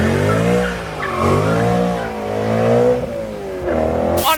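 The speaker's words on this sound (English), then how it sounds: "E92 leaving." A BMW E92 pulling away on a scenic road, its engine loud and close as the revs climb, dip and climb again through gear changes, ending in a sharp burst of noise.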